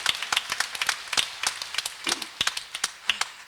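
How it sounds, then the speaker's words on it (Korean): Scattered clapping from a church congregation at a Catholic Holy Spirit conference: sparse, distinct hand claps at an irregular pace, fairly close, with no voices over them. "꽃꽂이 수고하신 분들 박수 한번 주시죠."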